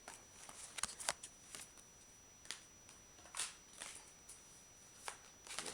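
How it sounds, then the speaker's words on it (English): Tarot cards being shuffled up close, quiet riffles and soft slaps coming in short irregular bursts with brief pauses between. "Shuffle the cards."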